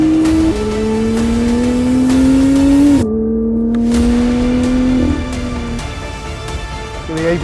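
A Lotus sports car driven hard on track, its engine close and loud as it revs up through gears, then drops in pitch under heavy braking with the ABS working.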